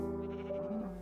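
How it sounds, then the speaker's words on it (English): A Minecraft cow lets out a single drawn-out, wavering moo, close and loud, heard alone with nothing else around it. "That cow is freaking out over there."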